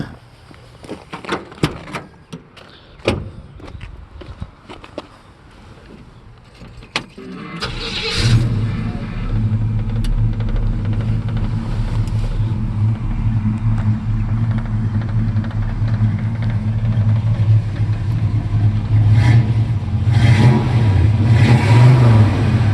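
A 1968 Chevy C10 pickup with new dual exhaust cranks and fires up after a few seconds of clicks and handling noises, then settles into a loud, steady rumbling idle with occasional revs, heard close and alone.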